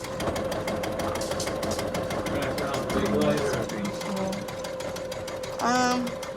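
A Janome MC230E embroidery machine stitches a tiny satin stitch on an appliqué beanie hat, a steady mechanical whir with a rapid rhythmic needle chatter running throughout, close by, with people talking over it now and then.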